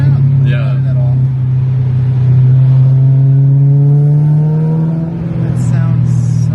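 BMW M car (F82 M4 or E92 M3) engine revving hard from inside the car, a loud, close, rising tone that climbs steadily, then drops back, with voices in the cabin.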